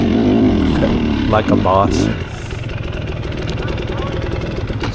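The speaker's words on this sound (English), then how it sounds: "you can go through first gear so fast because it revs so freely" A 2025 KTM 300 XC two-stroke dirt bike revving loudly and freely through first gear, close up, then settling to a steady engine drone, with a voice briefly over it.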